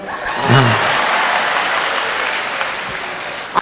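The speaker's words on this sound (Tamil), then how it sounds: "ஆனால் கைத்தட்டி கைத்தட்டி அங்கே சிவக்கிறது அவர்களது கரம்." An audience at a Tamil stage oration bursts into steady, thick applause lasting several seconds, close and loud, with a brief voice near the start.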